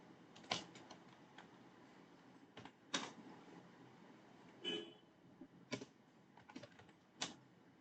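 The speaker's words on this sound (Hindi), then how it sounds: "अगर मैं यहाँ पे ऐड ग्रुप टाइप करता हूँ या यूजर ऐड टाइप करता हूँ" Commands are typed on a computer keyboard at a Linux terminal: quiet, scattered keystroke clicks in short irregular bursts with pauses between them, set against a faint room hiss.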